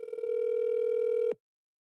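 A telephone rings in one steady, loud electronic tone lasting over a second, with a few faint clicks at the start, then cuts off abruptly into silence as the call goes unanswered.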